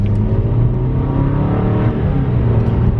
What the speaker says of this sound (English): Again, you hear it downshift one more time.